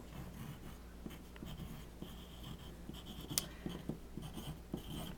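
Pen scratching on paper while writing a label for a jasmine leaf rubbing, soft close strokes and short scribbles in a quiet room.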